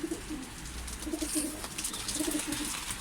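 Pigeons coo in repeated soft, low phrases at a balcony bird feeder during snowfall in Ankara, close by over a steady background hiss, with no voices.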